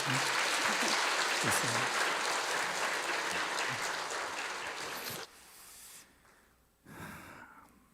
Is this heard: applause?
yes